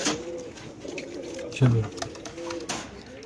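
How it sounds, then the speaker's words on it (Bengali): Racer pigeons give one prominent low coo mid-clip amid quieter cooing and market chatter, and people talk in the background. "এখানে আছে একদুরা রেসার কবুতর"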